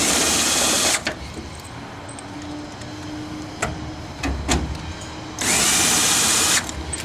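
A power drill drives self-tapping screws into a roof, giving two loud whirring bursts at the start and end with quieter ticks, clicks and a low hum between them.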